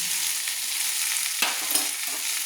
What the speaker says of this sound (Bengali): দিয়ে আমি ভালো করে আবারও নেড়ে নিচ্ছি।